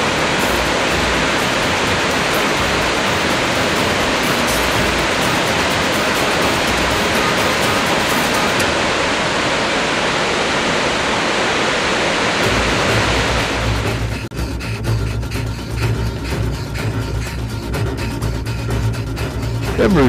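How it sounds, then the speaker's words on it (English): A waterfall with a 129-foot drop near Lake Britton roars as a steady, loud, broadband rush of falling water, constant throughout with a slight shift in tone partway, no voices. "This waterfall has a drop of 129 feet and about 100 million gallons of water flow"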